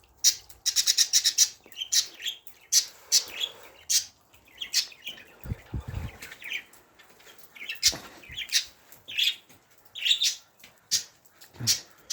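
Budgerigars chirp outdoors in snowy winter weather, rapid bright twittering in bursts from several birds close by, with short pauses and a few soft low thumps.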